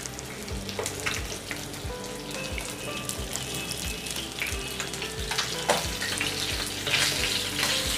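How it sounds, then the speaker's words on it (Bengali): Boal fish fry in hot oil in a pan with a steady, dense sizzle throughout, punctuated by soft regular stirring or scraping clicks; no one speaks. "মাছগুলো ভাজা হয়ে গেছে"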